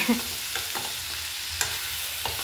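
Bottle gourd curry frying in a pan is stirred with a utensil, a steady close sizzle broken by soft scraping strokes and occasional sharp taps, with no voices.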